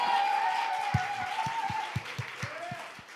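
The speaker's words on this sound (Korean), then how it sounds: "우리 하나님께 영광 박수 올립니다." A church congregation at a Korean Sunday worship service claps in a steady rhythm, with sharp, evenly spaced claps over a sustained musical tone that fades toward the end.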